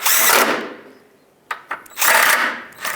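A power tool snugs up headlight bolts on a 2003-2009 Toyota 4Runner in two short, close whirring bursts with a few small clicks between them.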